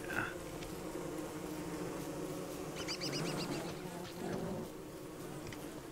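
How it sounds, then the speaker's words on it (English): Bees buzz in the Don't Starve: Reign of Giants video game, a continuous low drone with small chirping game sounds over it, moderately loud and without speech. "We don't want to kill all the bees"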